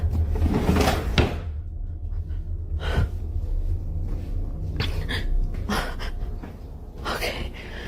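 Several sharp bangs of kitchen cabinets and a drawer in a quiet early-morning house, spaced irregular knocks over low room rumble, with faint breathing and gasps between them.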